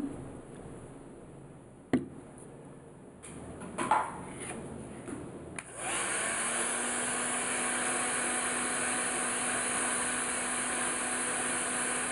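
A hair dryer blows steadily on grey paint on an MDF door sign, starting after a few soft handling knocks and then running as a loud, even whir with a low hum until the end.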